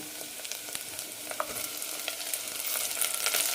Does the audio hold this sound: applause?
no